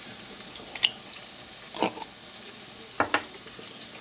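Tomatoes cook in a pan with a soft, low sizzle broken by a few sharp scrapes and clinks of a spoon stirring, close and quiet, no speech.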